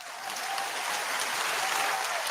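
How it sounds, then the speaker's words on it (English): Brief burst of audience applause on a radio broadcast, a dense, even roar of many clapping hands at steady loudness with no voices over it. "Give her some applause, please"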